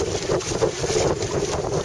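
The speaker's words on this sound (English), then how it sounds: "As I approach the other shore, the wind starts gusting because it's more open up here." Steady wind buffeting the microphone in gusts, with a low rushing roar and the hiss of moving water, no talking.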